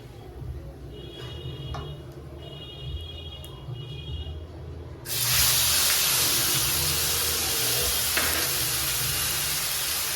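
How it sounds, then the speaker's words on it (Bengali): Cumin, dried chilli and bay leaf start frying in hot oil, a soft background hiss with a few faint beeps that suddenly swells into a loud, steady, close sizzle halfway through. "জিরে দিলাম, শুকনো লঙ্কা দিলাম, তেজপাতা দিলাম। এটা একটু ভেজে নেব।"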